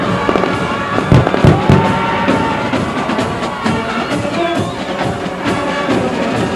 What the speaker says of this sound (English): Wow, the finale.